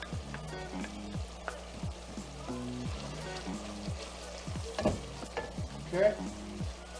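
Tomato paste sizzling and frying in a pot for braised oxtails while a spoon stirs it, with soft scraping strokes over a steady close sizzle and a brief voice near the end.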